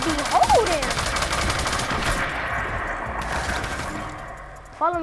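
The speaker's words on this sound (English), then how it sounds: "Dang, this gun is faster than the regular gun." Rapid automatic gunfire in a video game, a dense burst of fast cracking shots that holds steady for several seconds and ends with a sharp final report, with brief talk in the clip.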